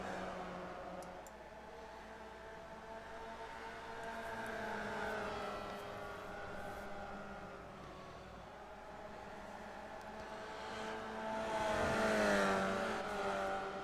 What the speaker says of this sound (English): Hold these cars wide open on the throttle for this long.